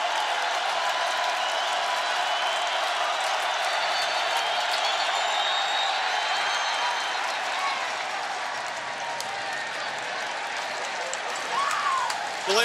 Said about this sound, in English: Yeah, that's the crowd